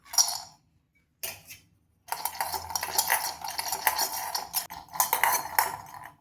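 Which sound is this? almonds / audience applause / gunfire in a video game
almonds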